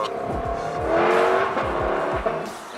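Car engine revving and roaring past nearby with tire noise, a brief thump partway through as it goes over a bump.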